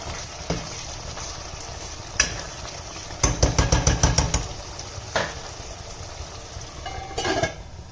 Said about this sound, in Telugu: మంచిగా కలిపేసేయండి అవి కొంచెం ఉడికే అంతవరకు కలపండి